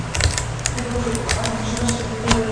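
Keys clatter on a computer keyboard as a tax ID number is entered, a quick run of sharp clicks over a steady hum, with a voice faintly in the background.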